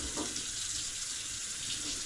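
Soapy water sloshing as a muskrat hide is scrubbed and sudsed, a continuous close wet rushing and swishing with no speech.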